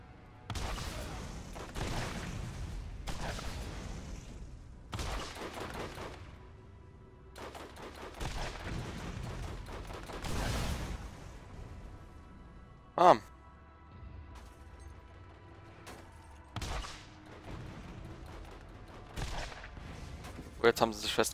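Bursts of rapid gunfire in the video game Borderlands crackle repeatedly over about twenty seconds, with a sharp louder shot and someone talking in German throughout.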